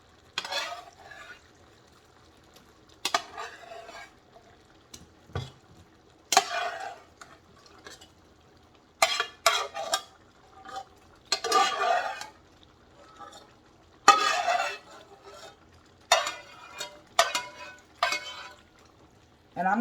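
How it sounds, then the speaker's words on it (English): Potatoes and onions tumble into a pan of roux for smothered pork chops, with intermittent spatula scrapes and clattering stirs over a soft, low sizzle and quiet gaps between. "So what I'm going to do is add my potatoes and onions."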